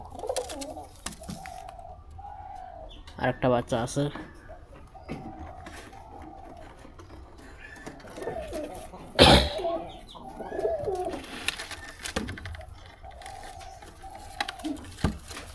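Pigeons coo repeatedly in a dark nesting box beside their chicks, soft low rhythmic calls close by, with wing flutters and scuffles and a person speaking briefly.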